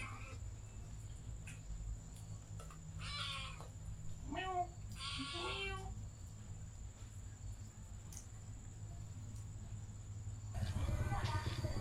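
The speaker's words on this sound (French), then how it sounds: "Il a un miaulement bizarre, hein, quand même." An animal gives a few odd, meow-like calls in short bursts over a steady low hum and faint insect buzz in the Taman Negara jungle, Malaysia.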